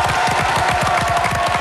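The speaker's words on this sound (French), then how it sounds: "Quelques applaudissements pour l'équipe blanche," A television game-show studio audience claps and cheers for the white team, with continuous close applause and a lively crowd roar that holds steady from start to finish.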